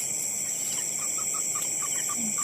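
A moorhen calls at night in a series of short, evenly spaced clucking notes like a hen, moderately near, over a steady high insect drone with no talk.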